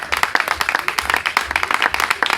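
A church congregation applauds together in rapid, dense rhythmic clapping, steady and fairly close throughout the short burst.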